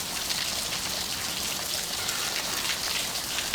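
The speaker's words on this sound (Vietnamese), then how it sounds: "Trời mưa to như này còn gió lớn nữa" Heavy rain pours down in strong wind, a dense, steady hiss of downpour filling the whole stretch without a break, loud and close with no voices.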